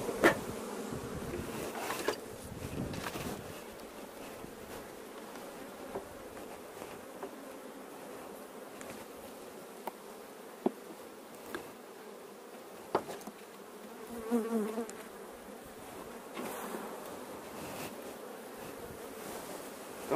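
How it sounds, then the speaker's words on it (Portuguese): A calm honeybee (Apis) swarm in an opened hive, being split with smoke, fills the air with a steady, dense buzzing of many bees close by, with a few louder swells as individual bees pass near. "Muita abelha, mas a gente consegue controlar ele bem."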